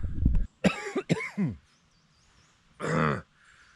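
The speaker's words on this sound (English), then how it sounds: "I've woken up with the most haggard cough" A few rough, hoarse coughs close to the mic, a quick cluster followed by a pause and one more harsh cough, from someone waking in a freezing cold forest while solo camping.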